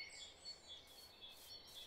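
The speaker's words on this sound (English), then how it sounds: "Let's get the sounds of birds." Soft, thin bird chirps played as ambient sound during a live stream, repeating high tweets over a quiet background, faint and steady without talk.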